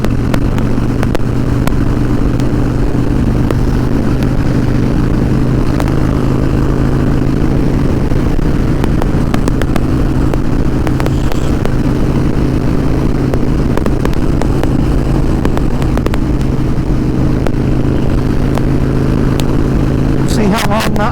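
A 2012 Harley Davidson Dyna Wide Glide motorcycle on a ride, its engine a loud, steady low rumble buffeted by constant wind roar, with no clear shifts in pace.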